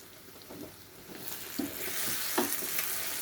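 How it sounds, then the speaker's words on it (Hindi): Egg and onion curry (anda pyaz salan) stirred in a sizzling pan, a steady frying hiss with a few soft scraping strokes of the spoon, close up with no talking. "अब हिलाएंगे इसको।"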